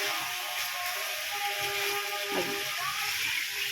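Meat being sautéed in oil for a Bengali kosha, a steady close hiss of frying, with a brief scrape partway through.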